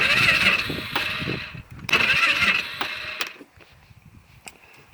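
A Polaris Sportsman 500 ATV with a starting problem cranks in rough, rattling bursts that fail to catch, with a pause between attempts and then fading, scattered mechanical clicks and knocks.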